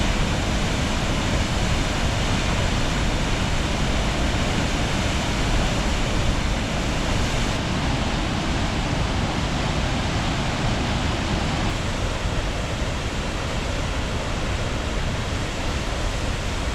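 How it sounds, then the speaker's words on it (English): Brule River waterfall on Minnesota's North Shore roaring with unusually heavy flow, a loud, steady broadband rush of pounding water that fills the whole stretch without letup. "The Brule is running like I've never seen before. So much water in sheer force."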